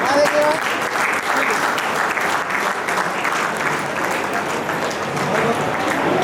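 Sustained applause from an audience at an awards felicitation ceremony in Sitarganj, Haldwani, dense steady clapping filling the room with a faint voice briefly audible under it.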